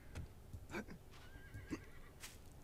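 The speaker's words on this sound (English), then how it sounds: "I hear another horse." A horse whinnies in a few bursts amid light hoof clip-clops in the video game 7 Days to Die, moderately near and fairly quiet.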